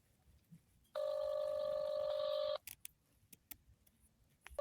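A telephone dialing toward voicemail gives one steady, loud multi-tone ring burst of about a second and a half. Brief clicks and faint room noise follow, with no talking.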